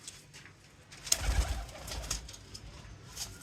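Dub pigeons cooing near at hand, a few soft low coos and wing or body rustles in a quiet loft.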